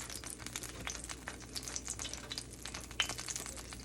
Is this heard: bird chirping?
no